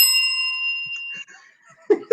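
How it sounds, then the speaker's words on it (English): A bell rings once with a bright, sustained metallic tone that slowly fades, followed by a brief chuckle and some breathy vocal sounds. "I forgot you had the bell."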